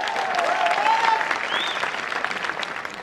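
An audience at a product launch event for aloe vera products claps steadily for the full stretch, a dense, even wash of applause with a faint voice or tone threaded beneath it.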